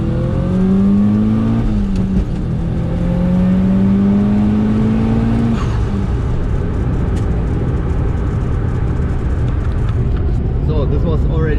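A tuned car engine revs hard and shifts from second to third gear, a loud close roar with rising pitch that steps down at the shift, while people talk over it inside the car.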